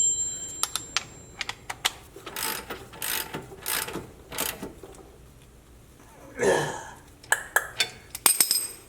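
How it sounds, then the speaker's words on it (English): A wrench torques down the clamshell mount bolts on a Jeep Gladiator in a shop, a series of quiet ratcheting clicks and short mechanical bursts, with a brief louder clunk partway through. "And now I'm going to torque this down properly."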